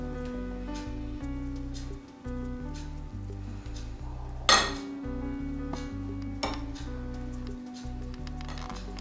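A wet spoon clinks and scrapes against a dish while spreading a layer of semolina milk pudding, light repeated taps with one sharper clink, over a steady tonal background.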